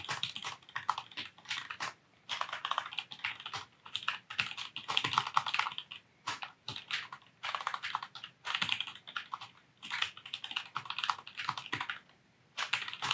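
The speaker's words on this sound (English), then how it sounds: "let's open up Notepad and give you what it sounds like when I'm typing" Fast, continuous typing on a Roccat Vulcan 121 AIMO mechanical keyboard, crisp clacking keystrokes in bursts separated by brief pauses, close and alone.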